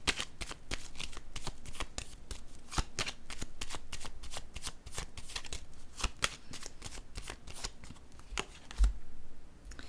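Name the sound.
cards being shuffled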